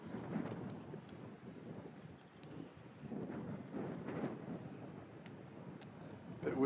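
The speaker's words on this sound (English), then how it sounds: "Bit windy." Gusty wind buffeting the microphone on a mountain walk through flower meadows in the Dolomites near Badia, a steady low rumble swelling and easing in waves, with brief faint voices at times.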